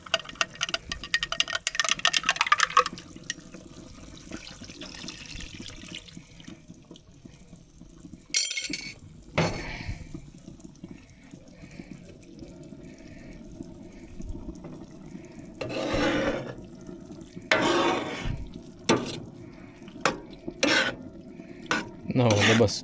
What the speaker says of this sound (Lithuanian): Supilsiu vandenį su miltais, kad gautas guliašo konsistencija